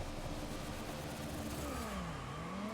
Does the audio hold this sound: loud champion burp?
no